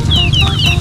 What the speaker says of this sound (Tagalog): Puro po tandang, walang babae.